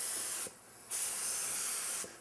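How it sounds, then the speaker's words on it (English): An HVLP spray gun applying wood finish hisses in steady bursts: a short spray, a brief pause, then a longer continuous spray before it cuts off. "It's just a kinder, gentler way to put spray on, to put finish on."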